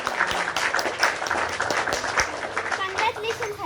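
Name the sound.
class clapping, applause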